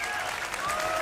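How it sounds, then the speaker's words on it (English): Crowd applauding at a Yu-Gi-Oh! tournament in Berlin, a brief dense burst of clapping with a faint tone sliding underneath. "And the crowd is going wild."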